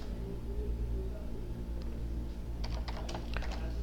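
An Excel formula is typed on a computer keyboard, a short quick burst of keystrokes near the end after a quiet humming stretch, faint and close.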